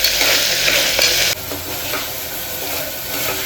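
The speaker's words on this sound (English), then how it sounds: "Now adding some ginger garlic paste" Ginger garlic paste frying in a hot pan for chicken yakhni pulao, a loud close sizzle that drops suddenly to a softer bubbling hiss with light scraping.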